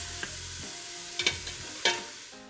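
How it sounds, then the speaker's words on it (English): Garlic, onion and bacon sauté in butter over medium heat, giving a soft steady sizzle broken by a few sharp scrapes and stirring knocks of a utensil against the pan. "we're gonna saute this over medium heat for about 2 to 3 minutes"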